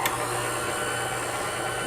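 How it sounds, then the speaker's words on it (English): Electric hand mixer beating eggs, brown sugar and vanilla extract in a bowl, a loud, steady, continuous whirring drone up close with no talking. "I'm using an electric mixer, but you could certainly do it by hand if you wanted to."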